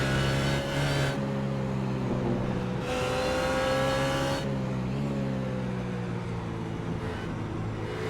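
BMW race car engines in the iRacing game roar and whine continuously, pitches climbing and falling through gear changes as several cars drive close together in an endurance race.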